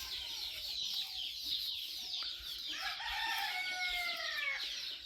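Village country chickens and their chicks, with hens clucking and a rooster crowing nearby, mixed with high chick peeps over steady background noise.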